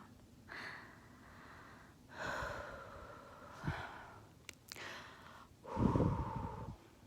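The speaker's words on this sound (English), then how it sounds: "I'm hoping maybe hearing breathing will relax some other people too" Slow, deliberate breaths recorded up close, several long airy inhales and exhales with soft gaps between them, the last exhale the loudest.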